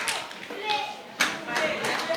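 An audience at an award ceremony for a multiplication competition claps in scattered, uneven bursts, fairly close, with voices mixed in among the hand claps.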